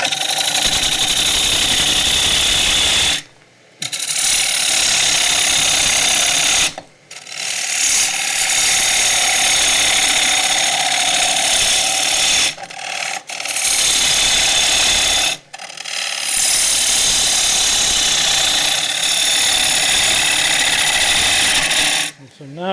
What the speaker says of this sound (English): It's convex curve, so it's quite a good thick shaving, and it's almost a kind of scraping action